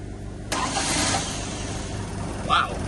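A rebuilt 1962 Land Rover 2.25 engine cranks and catches abruptly, then settles into a close, loud idle with a brief rise in revs near the end.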